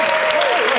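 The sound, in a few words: audience applause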